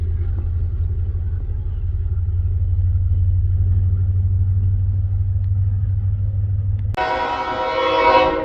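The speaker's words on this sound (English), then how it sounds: "Of our eastbound loaded coal drag" An eastbound loaded coal freight train rumbles past with a steady low drone of rolling cars, then a sudden bright, loud burst of noise near the end.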